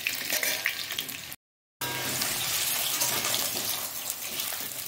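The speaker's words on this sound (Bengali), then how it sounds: "নেড়ে ছেড়ে একটু লাল লাল করে ভেজে নেব।" Potato pieces fry in a pan for a Sunday chicken dish, giving a steady, close crackling sizzle that stops briefly and then carries on without any talk.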